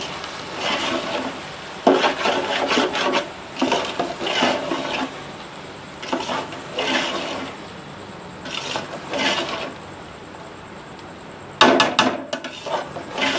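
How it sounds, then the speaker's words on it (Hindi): Boiled rice is stirred into sugar syrup in a pot for zarda, a sweet rice dish, giving repeated scraping, rasping strokes in uneven bursts with quiet pauses between them, close up and without talk. "अब मैं इनको अच्छी तरह से इसमें मिक्स करूँगी।"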